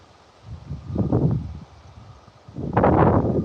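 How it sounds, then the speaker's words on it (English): Wind gusts outdoors in two rustling surges, the second stronger, with a near-silent lull between them. There is no voice. "A little windy."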